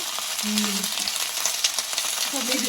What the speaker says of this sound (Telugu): చిట్టుపట్టు సౌండ్ వచ్చేస్తుంది. సౌండ్ వస్తుంది, మనకి ఫ్రై అవుతుంది చూసావా.